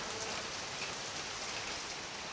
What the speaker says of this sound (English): the heavens have opened and we are getting absolutely drenched